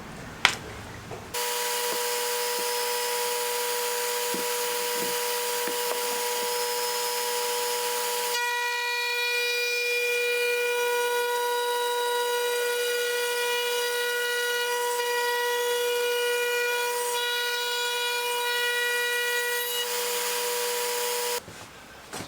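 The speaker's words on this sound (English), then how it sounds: "it's a trend router bit, 1/4 inch to suit my 6mm MDF board" A router fitted with a Trend 1/4 inch bit cuts 6mm MDF. It gives a steady, loud, high-pitched whine for about twenty seconds, changes tone partway through as the cut proceeds, and stops abruptly at the end.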